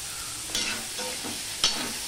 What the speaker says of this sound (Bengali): এবার আমি আলু উচ্ছেটা একসাথে নিয়ে ভাজতে থাকবো